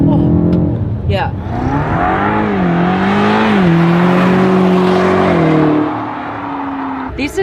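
A Brabus-tuned Mercedes E63S sedan rated at 800 horsepower accelerates hard, its engine note rising and shifting through gears, loud and heard from inside the cabin before easing off near the end.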